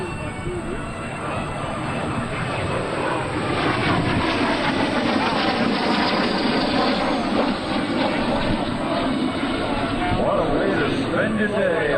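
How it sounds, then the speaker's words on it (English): A jet warbird makes a high-speed pass at 450 knots at an air show, a loud sustained roar sweeping through with a shifting pitch, while someone talks over a loudspeaker throughout. "the high-speed pass at 450 knots"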